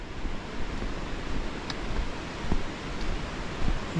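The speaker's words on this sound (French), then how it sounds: "Ça c'est le torrent qu'on entend là qui vient se jeter aussi de l'autre versant là." Steady broadband rush of a mountain torrent near Lac de Bious-Artigues, a constant roaring wash with no voices, flowing nearby.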